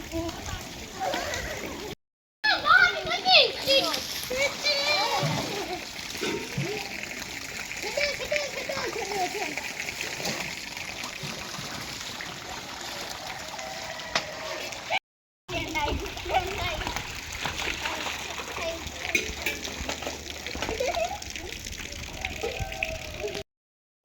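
Children splash and play in flowing rainwater in Malir, Karachi, just after a rain shower: steady sloshing and splatters close by, with children's voices and chatter throughout, broken by two short dropouts.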